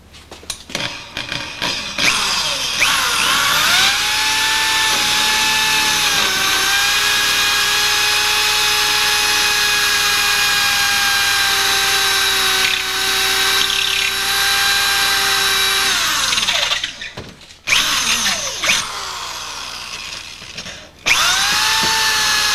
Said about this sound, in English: I'm going to go ahead and drill this lock right here